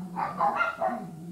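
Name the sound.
dog barking next door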